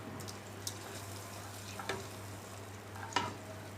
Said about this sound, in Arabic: ننزل بقى بكبشة الصلصة اللي مسبكينها